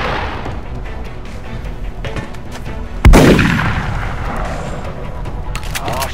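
A single loud, booming gunshot rings out in the video game XCOM: Enemy Within, with a long reverberant tail over a constant low background rumble.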